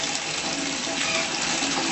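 A bathtub in a guest bathroom fills with running water from the tap, a close, steady rushing and splashing that continues without pause.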